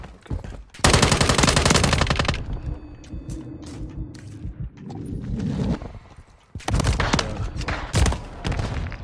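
Bursts of automatic gunfire from a close-range gun in a multiplayer shooter free-for-all on a scrapyard map, loud rapid volleys with pauses between, ending in two more sharp bursts.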